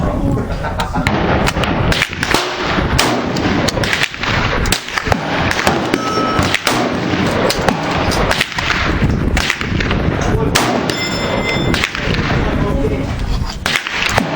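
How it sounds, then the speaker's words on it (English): A handgun fires repeatedly at an outdoor range while a red dot sight is zeroed, with sharp, loud cracks in a steady series that fill the whole stretch. "So we'll just load up and get to the shooting."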